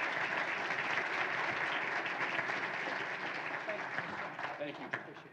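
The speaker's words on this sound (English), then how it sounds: "How about a round of applause for John Gaduli?" Audience applause at a 2017 Butler County Philanthropy Day gathering, a steady dense wash of clapping that fades slightly toward the end, fairly distant and soft.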